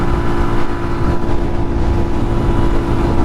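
A street-legal dirt bike with balanced tires and a freshly rebuilt top end cruises down a road in a loud, steady engine drone, mixed with constant wind rush.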